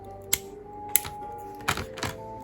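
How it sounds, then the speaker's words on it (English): Sharp clicks of a false nail clipper trimming press-on gel nails, four distinct snips spaced unevenly, close and fairly quiet with no talking. "I'm just going to take my false nail clipper and trim them a little bit"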